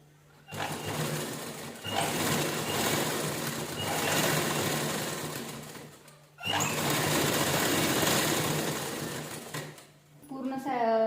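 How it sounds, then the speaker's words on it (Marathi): A sewing machine runs in two long bursts, stitching lining into a blouse, a steady close mechanical whir that stops briefly and ends with light handling sounds. "व्यवस्थित पट्टीनं स्टिच करून घ्यायचं एकसारखं"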